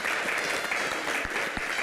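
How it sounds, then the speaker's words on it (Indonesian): Sustained audience applause for a retired Indonesian Air Force marshal being welcomed on stage, steady dense clapping filling the room without a break. "Kita berikan tepuk tangan yang paling meriah."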